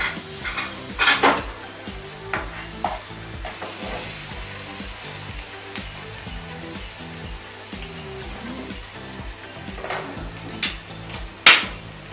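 Seasoned vegetables tumble into a hot pan for vegetable chop suey, with clattering cookware and cutlery knocks, a few sharp hits and a rising sizzle under continuous stirring.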